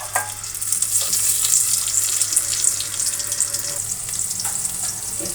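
Onions and bay leaves fry in oil in a pot, making a steady, bright hiss with a faint low hum and a few small pops.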